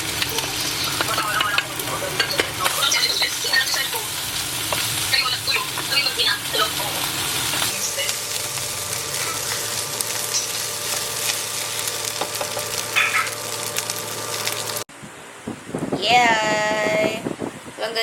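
Longganisa fried rice with tomatoes sizzles and crackles steadily in a pan, a dense continuous fry broken by a steadier hum midway, then a short burst of clattering noise near the end.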